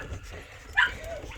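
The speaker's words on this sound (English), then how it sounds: "Whoop, there's Kira puppies" A puppy gives a single short, high whimper or yip, close by, against a quiet indoor background.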